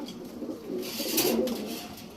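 A hot-blooded red pigeon, a round-bodied male fancy bird at a pigeon market, coos softly and continuously, fairly quiet against background bustle.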